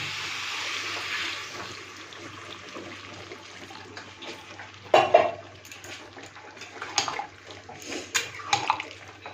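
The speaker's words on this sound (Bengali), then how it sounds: "এইবার দিয়ে দিচ্ছি পরিমাণ মতো জল" Water poured into a pot of fish curry with drumsticks and potatoes, a steady watery wash with a couple of louder splashes near the end, no talk.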